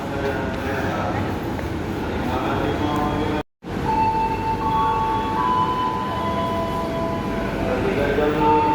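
Aboard the special farmers' and traders' train from Rangkas to Merak, a continuous rolling rumble fills the carriage, broken by one brief dropout, with faint tonal whines rising later in the ride.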